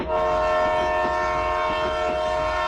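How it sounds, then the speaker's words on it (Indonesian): A train horn blares loud and sustained as a rich multi-tone chord, holding steady with a reverberant, echoing quality over a low rumble. "suara klakson kereta menggema"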